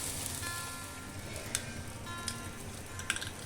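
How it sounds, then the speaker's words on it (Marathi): Mustard seeds spluttering in hot oil for a tempering, a steady sizzle broken by sharp crackling pops, several distinct bursts near the end, close and moderate with no talk. "आपली मोहरी तडतडलेली आहे."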